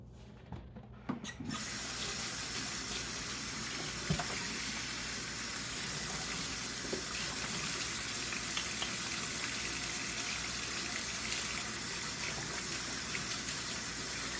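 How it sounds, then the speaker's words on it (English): Hands being washed under a running kitchen tap while cooking a Mexican pork chop stew: a steady, loud gush of water that starts after a few brief clunks and runs continuously without speech. "let me wash my hands"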